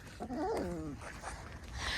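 A puppy gives a close, high, wavering whimper lasting under a second, followed by quieter snuffly sounds.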